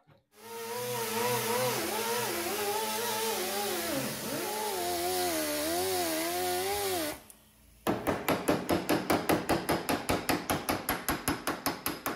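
Hammer and dolly work on a metal fender skirt for a custom tail dragger: after a sustained whining grind-like tone, a fast rhythmic series of sharp, close metallic hammer blows rings out on its own.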